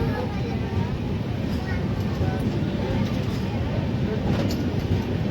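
Nanded to Pune Express train (17630) pulling out of Jalna station, a steady broadband rumble of the moving train heard from inside the coach, loud and continuous throughout.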